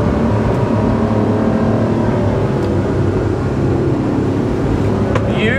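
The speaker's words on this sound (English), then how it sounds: "Listen to those motors" Twin motors on a SAY 42 speedboat drive hard into waves, a loud, continuous engine roar with steady rumble and hull-slap and spray hiss layered on top, close and sustained throughout.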